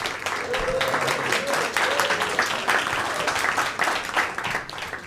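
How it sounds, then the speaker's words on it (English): A comedy club audience applauds a comic, sustained dense clapping with distinct hand claps standing out, while a voice talks faintly underneath. "Keep clapping for Michael, everybody."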